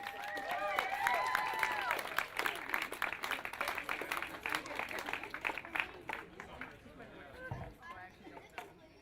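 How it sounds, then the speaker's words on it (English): Spectators at a wakesurfing tour final in Calgary applaud the women's overall champions, scattered clapping over steady crowd chatter and outdoor noise, fading toward the end. "One last round of applause for your women's overall champions."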